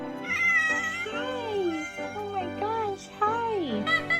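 A congenitally deaf cat greets its owner with a run of loud, drawn-out meows that bend up and down in pitch, some rising into caterwauling wails, close by with brief pauses between calls.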